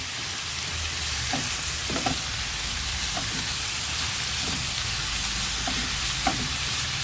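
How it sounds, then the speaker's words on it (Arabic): Chunks of liver frying on a bed of onions in a pan, with pepper and minced garlic: a steady, close, continuous sizzle with faint scattered ticks and pops throughout, no voices. "حطينا يا حبايبي الكبده اهي على البصل"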